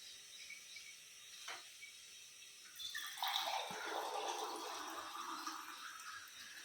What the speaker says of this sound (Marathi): एक ग्लास पाणी ओतलेलं आहे.